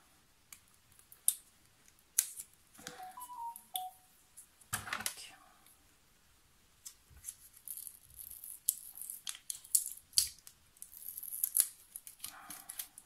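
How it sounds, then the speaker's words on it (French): Sticky tape peeled and picked off a cardboard Advent calendar box, close, scattered crackles and sharp tearing rips with quiet pauses between them. "on va déjà enlever le scotch qui est dessus"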